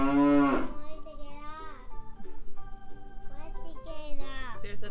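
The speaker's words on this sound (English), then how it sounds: "Look at that big cow in there." A cow in a barn at Pineland Farms in Maine lets out one loud, close moo at the start. After it, a child and an adult talk over a low barn background.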